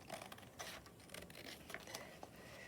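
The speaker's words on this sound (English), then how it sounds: "So I'm going to cut these apart." Scissors snipping apart printed paper place cards shaped like little houses, a quiet close run of short cutting crunches and paper rustles.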